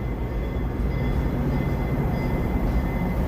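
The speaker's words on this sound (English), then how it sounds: "Here, the train's pulling out here." Metra commuter train pulling out of a Chicago station platform, a steady, close rumble of rail cars rolling and clattering without a break and with no talk.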